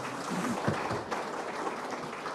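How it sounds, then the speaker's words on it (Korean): Audience applause at a district symposium on village democracy in Seongbuk, Seoul, a brief, dense burst of many people clapping together in a hall. "예, 큰 박수 부탁드리겠습니다."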